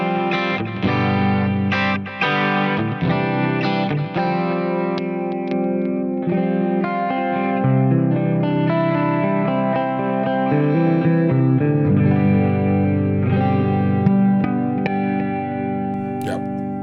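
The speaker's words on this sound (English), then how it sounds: "This is my clean sound." An electric guitar played through a Neural DSP Quad Cortex with a clean tone and effects rings out in sustained chords and notes, loud and alone with no voices.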